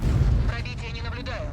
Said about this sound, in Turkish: Obje 260 268 versiyon 4'ü burada darlamaya başladı. İki tane mermi attı.